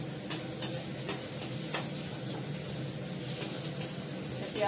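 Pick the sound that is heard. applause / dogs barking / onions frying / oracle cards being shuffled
onions frying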